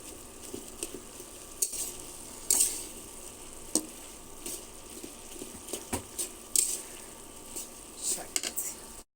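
Leafy greens (shak bhaji) fry in a pan with a steady soft sizzle, broken by brief clinks and scrapes of stirring, heard close and at moderate level.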